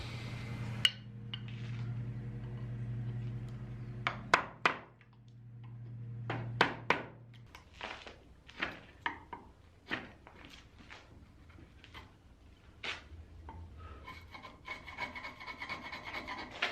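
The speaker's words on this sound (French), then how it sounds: "je finis mon tenon au ciseau à bois" Hand work with a steel wood chisel paring a wooden tenon for a firewood shelter frame, close and fairly quiet. Steady low rubbing comes first, then a run of sharp scraping and tapping strokes at irregular intervals, with no talk.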